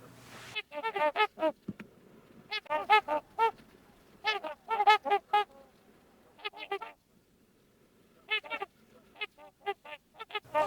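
Loud, brassy honking calls from trumpeter swans come in repeated bursts of several notes, separated by short pauses, close by and with no talking.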